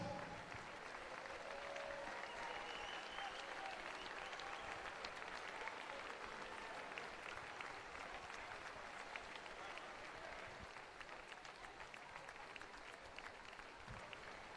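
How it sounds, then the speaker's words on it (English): Sustained applause from a large crowd at a poolside county swimming championship fills the whole stretch, steady and even, with a faint murmur of voices underneath. "a massive round of applause for the Lancashire team for 2017"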